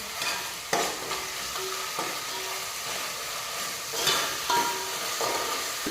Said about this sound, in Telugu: అల్లం వెల్లుల్లి పేస్ట్ అయితే పచ్చి వాసన పోయేంత వరకు అయితే ఫ్రై చేసుకోవాలి